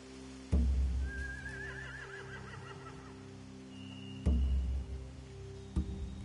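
A video game horse whinnies in a long wavering call, framed by heavy thuds and clatter, with a steady low hum underneath.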